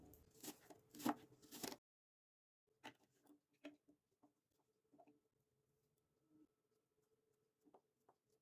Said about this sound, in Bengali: আপেলটা আমি ছোট ছোট টুকরো করে কেটে নেব।